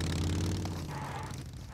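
A vehicle engine in the PUBG Mobile video game hums as a steady, low, continuous drone that fills the short moment at an even level.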